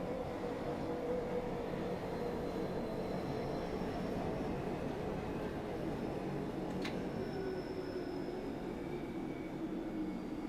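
A London Underground Bakerloo line train runs in Train Sim World 2, giving a steady rumbling roar with a droning motor tone that slowly shifts in pitch and a brief high squeal partway through.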